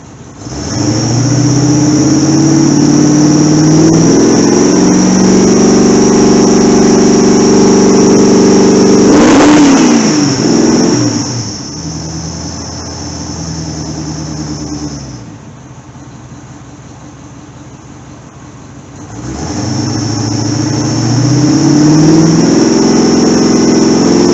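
A cold carbureted car engine revs hard and loud, holding a raw mid-pitched drone, surging again around the middle, dropping to a lower idle, then climbing back up.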